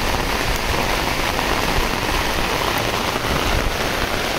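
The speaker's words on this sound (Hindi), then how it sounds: "बारिश" Heavy rain falls steadily over a market street after two days of downpour, a dense, loud, unbroken hiss of drops on surfaces with no voices.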